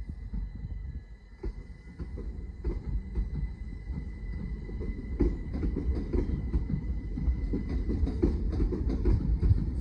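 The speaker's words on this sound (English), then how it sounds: "Now departing is 375-827, working the 1146 Southeastern service to London Charing Cross via Tunbridge Wells." A Southeastern Class 375 electric multiple unit pulls away from Hastings station, a rumbling low rail roar with clattering wheel clicks that builds steadily in loudness as the train gathers speed, no voices present.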